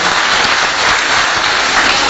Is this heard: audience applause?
yes